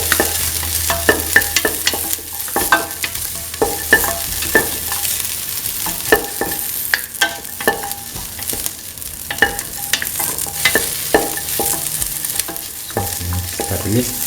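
Shallots with salt sautéing in a pan for a lentil, winter melon and coconut stew, a continuous close sizzle broken by frequent sharp scrapes and taps of a spoon stirring.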